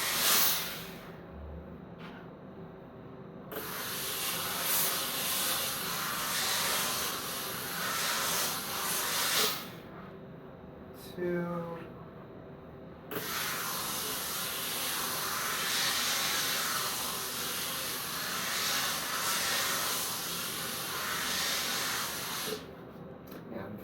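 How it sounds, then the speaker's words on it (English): A handheld steamer hisses steadily over quilt fabrics as they are steamed dry, running in long continuous bursts separated by short pauses, close and fairly loud. "we're going to completely steam these fabrics the rest of the way dry"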